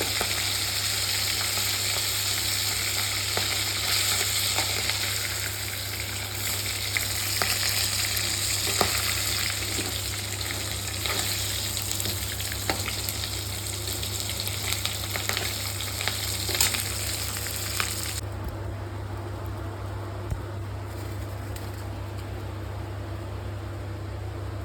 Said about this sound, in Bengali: এদিকে মাছের মাথাটাও কিন্তু খুব সুন্দরভাবে ভাজা হচ্ছে।